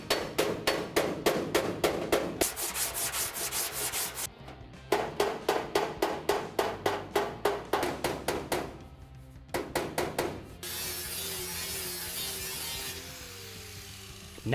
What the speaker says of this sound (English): Gives me something to have contact with and do a hammer on dolly technique.